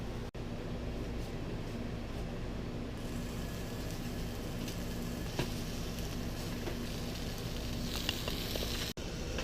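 Sausage fries in a pan while breakfast burritos are being made, producing a steady, close, even hiss of sizzling that runs unbroken throughout. No one speaks.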